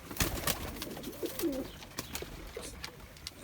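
Pigeons coo softly in a couple of low, throaty phrases over faint background noise, with no voices.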